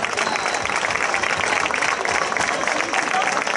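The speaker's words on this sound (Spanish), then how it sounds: "Un fuerte aplauso." A crowd bursts into loud, sustained applause at a town festival proclamation for the 2016 fiestas of Hoya del Campo, many hands clapping densely and close, with voices mixed into the ovation.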